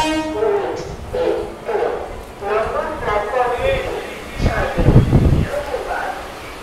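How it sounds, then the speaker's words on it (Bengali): A MEMU passenger train on the Asansol to Barddhaman route rumbles steadily with rhythmic wheel clatter while someone talks close by throughout. "মেমু ট্রেন।"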